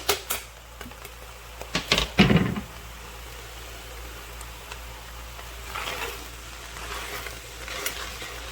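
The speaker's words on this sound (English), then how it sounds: "now we're gonna go ahead and put that garlic in and cook until fragrant" Garlic frying in a chili pot with two kinds of meat and vegetables: a few sharp clatters and stirring scrapes up front, then a soft, steady sizzle with light crackles, close by, without talking.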